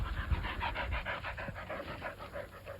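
A dog pants close by in quick, even breaths, about a dozen rhythmic puffs with no talk over them.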